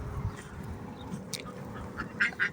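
Backyard pet ducks quacking in short bursts at mid distance, a few calls rising near the end over low outdoor background noise.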